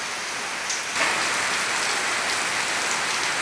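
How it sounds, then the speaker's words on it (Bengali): Heavy torrential rain roars steadily, growing slightly louder and brighter after the first second as the downpour thickens, near and continuous with no talking. "প্রচুর বৃষ্টি হচ্ছে, মানে মুষলধারে বৃষ্টি হচ্ছে।"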